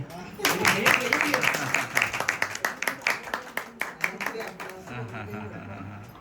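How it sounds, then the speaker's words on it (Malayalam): Family members at a home birthday celebration clap their hands in a quick, uneven rhythm close by, the claps thinning out toward the end while voices talk over them. "കൈയടിക്കേ"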